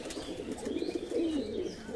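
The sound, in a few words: pigeons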